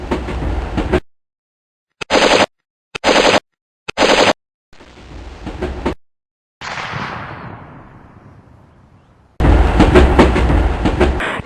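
Gunfire erupts during a brick-built train robbery scene: several short, loud volleys separated by silences, a fading whoosh, then a long sustained rattle of automatic fire.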